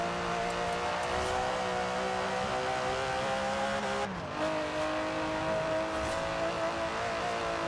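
An Aston Martin DB11's 5.2-litre twin-turbo V12 drones in Forza Horizon 4, a loud sustained engine tone that climbs and holds, briefly dips as if shifting, then carries on with faint tyre noise.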